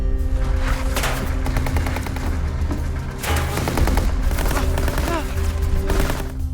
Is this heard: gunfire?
yes